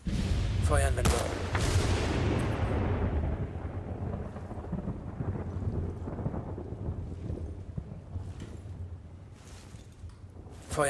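In the video game Battlefield: Bad Company 2, a deep thunder rumble rolls in loudly and slowly fades, with a voice speaking faintly beneath it.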